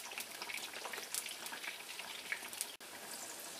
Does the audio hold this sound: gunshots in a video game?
no